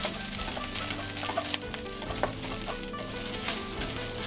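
Dried shrimp, garlic and ginger fry in a pan with a steady, dense sizzle and crackle, punctuated by occasional stirring clatters, loud and close with no talk.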